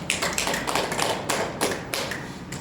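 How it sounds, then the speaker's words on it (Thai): Students in a physical education class clap for their classmates, a dense burst of many hands applauding close by for a few seconds before it thins out. "ตบมือให้เพื่อนครับ"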